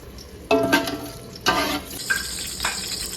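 Whole spices dropped into hot oil for biryani tempering, sizzling in three or four sharp bursts that settle into a steady hiss, with a stir or two and no talking.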